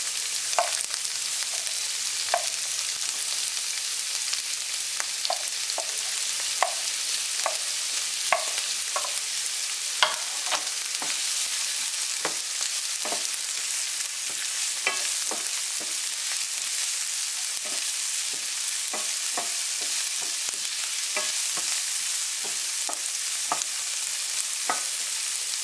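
Garlic and onion fry in a pan with a steady, bright sizzle, punctuated throughout by the scrape and clack of a utensil stirring, close and without speech.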